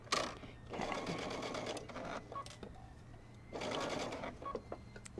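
A sewing machine zigzag-stitches a kimono-style robe in two steady bursts of rapid, even needle chatter, with a short pause and light handling clicks between runs; the machine sounds close and fairly loud.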